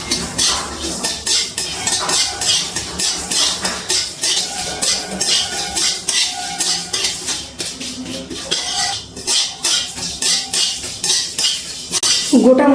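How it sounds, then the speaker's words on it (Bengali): Whole spices such as black peppercorns and cumin seeds frying in a pan over a low gas flame, giving a steady bright sizzle with frequent metallic clinks and scrapes of a utensil stirring, close and continuous. "এবারে গ্যাসের ফ্লেমটা লোতে রেখে গোটা মশলাগুলো ভেজে নিচ্ছি।"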